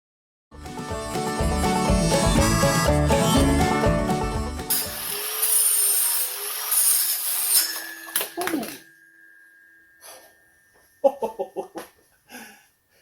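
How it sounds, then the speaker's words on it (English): Flap wheel on an angle grinder roughly deburring and rounding sharp corners of steel pieces for a homemade vise-grip organizer, a loud sustained grinding whine for about five seconds, then tapering into scattered clanks and brief bursts with quiet gaps. "now I'm going to take that flap wheel and clean up each one of these corners and try to round them off a little bit"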